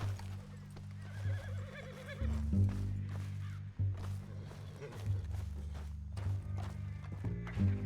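A horse in Red Dead Redemption 2 whinnies and its hooves clop on the ground, heard over a steady game music score with low sustained tones, the hoofbeats coming in short irregular bursts.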